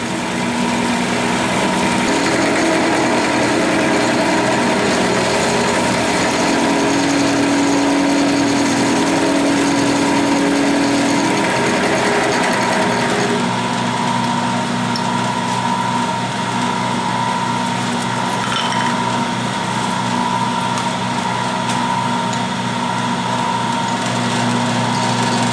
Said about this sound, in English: Just milling to my scribe marks.